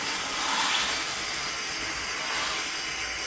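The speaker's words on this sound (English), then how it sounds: "I'm just going to run water over this so I can touch it" Tap water runs steadily over a frying pan used for French toast, a loud, even rushing hiss that holds for several seconds with no pauses and no voices.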